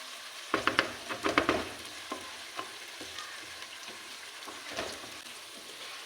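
Taro and spices sauté in a pan as a spoon stirs, with a cluster of sharp scraping clatters early on and softer stirs later over a low, steady sizzle.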